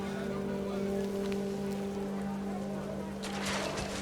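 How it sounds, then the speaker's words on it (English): Heavy rain in the video game What Remains of Edith Finch falls as a soft, steady hiss with a low droning hum under it, growing brighter and more pattering near the end. "The rain came down in buckets then"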